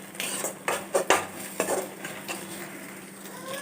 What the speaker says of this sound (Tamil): இந்த முட்டையை நல்லா வதக்கி பொரித்து எடுத்து தனியாக வச்சிடலாம்